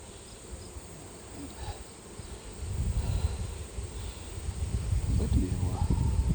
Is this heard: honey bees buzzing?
yes